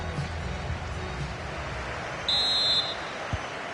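A referee's whistle in a football video game sounds as one short, steady, high-pitched blast over the constant crowd noise of a stadium.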